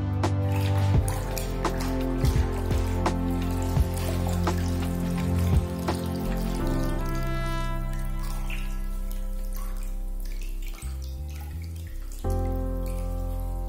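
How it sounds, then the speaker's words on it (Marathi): A jute bag with a lining is swished back and forth in clean rinse water, giving a steady close run of sloshing, trickling and dripping with no pauses. "ह्या चांगल्या पाण्यात आता आपण बॅग हलवून घेऊया।"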